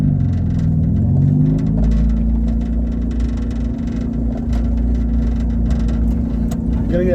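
A 1994 Honda Civic with a manual transmission pulls away with a loud, steady engine drone and low rumble heard from inside the car, the pitch shifting slightly early on as it gets moving.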